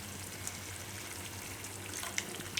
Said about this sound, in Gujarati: થોડુંક પાણી નાખીશું આપણે